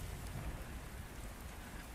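Steady rain during a thunderstorm, a soft dense patter with a low rumbling undertone, faint and continuous with no voices.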